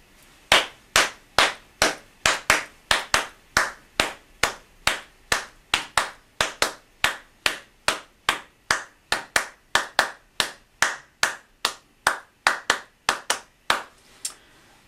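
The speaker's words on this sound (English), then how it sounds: "If I demonstrate the rhythm, I'm going to clap the rhythm." A single pair of hands claps a steady, evenly spaced rhythm inspired by the haka, demonstrated for primary school teachers; sharp, close, dry claps repeat continuously with no voices present.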